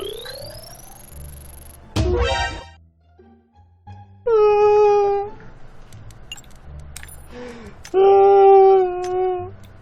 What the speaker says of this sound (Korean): 수류탄 저거 냐옹거리고 오니 귀여워요